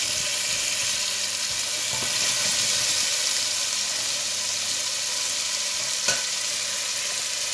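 Vegetables sautéing in a pan for a beef meatball goulash, a steady close, loud sizzle and crackle throughout, with a brief stirring scrape partway through and no voices.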